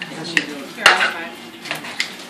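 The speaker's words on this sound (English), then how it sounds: "I'm just going to chop this really good. These salad choppers are phenomenal." Salad choppers clatter against a bowl of chopped salad in a cooking demonstration, with a few sharp clinks and knocks spread over the stretch, close and moderately loud.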